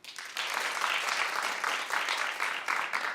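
A talk-show studio audience claps in a steady, moderately loud wash of applause that runs throughout, with no voices over it.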